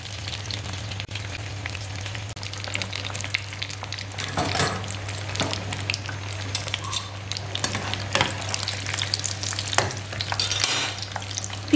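Chicken bread patties fry golden brown in a pan, giving a steady close sizzle with occasional scraping and stirring clicks throughout.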